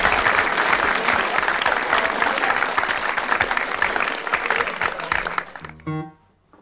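Audience applause at a folk club song-a-thon, sustained and fairly loud clapping from a crowd that fades out near the end as a tone sounds.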